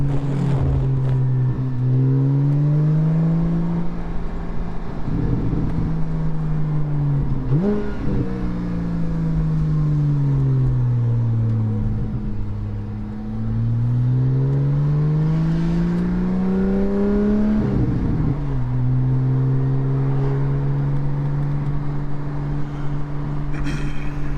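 A Porsche 718 GT4 with a Soul Performance race exhaust drones loudly and steadily, its pitch rising and falling as it revs up and eases off, heard from inside with windows down and road noise.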